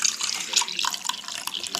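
Milk being poured into mugs in a home kitchen, a steady liquid splash and trickle running continuously and fairly close, with no talking.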